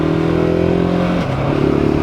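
A Gasgas ES700 motorcycle on a winter ride, its engine droning loud and close with a steady throb that dips slightly in pitch partway through, no voices.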